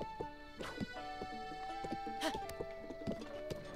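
Horse hooves in The Legend of Zelda: Breath of the Wild clip-clop in an irregular rhythm alongside tonal, synthetic music-like tones and occasional louder clatter, fairly quiet overall.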